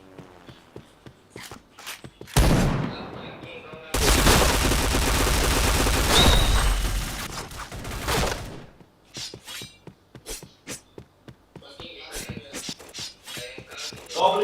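Gunfire in a shooter game rings out as a long, loud sustained burst in the middle, bracketed by scattered single shots and footstep-like clicks, with faint talk in between.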